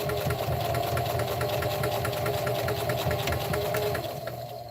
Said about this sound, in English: I'm going to go ahead and back stitch in the beginning